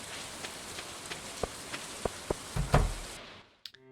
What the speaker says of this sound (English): I don't know if the rain would be a great day for catch